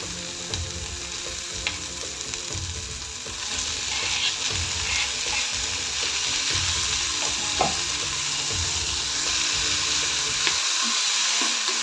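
Chopped tomato sizzles and fries in a pan with oil for a bhindi masala curry, a steady close crackle and hiss with occasional stirring scrapes and clinks, no voices, ending in a brief quiet.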